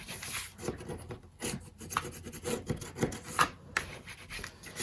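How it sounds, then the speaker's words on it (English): Paper pieces of an advent calendar mini album are burnished by hand, giving close, dry rubbing and rasping strokes in an irregular rhythm, with no talking. "Okay, and then you can burnish on both sides."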